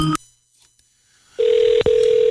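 A phone sounds off with a brief electronic blip, then after a pause a steady, loud tone rings on with a short interruption, close and alone.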